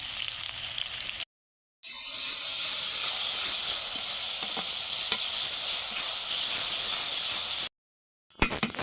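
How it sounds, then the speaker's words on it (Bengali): Onions frying with salt in a pan for a home-style goat meat curry, giving a steady loud sizzle and hiss that runs almost throughout, broken by two short silent gaps. "প্রথমে পেঁয়াজ দিয়ে পেঁয়াজটা ভাজা ভাজা করে নিতে হবে"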